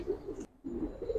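Silver Giribaz pigeons from Old Dhaka coo in soft, repeated low murmurs close by, broken by a brief pause midway before the cooing resumes.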